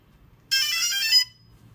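A DJI Phantom 2 Vision+ drone powering on gives a bright, ringtone-like run of startup tones lasting under a second, clear and close against a quiet background with no talking.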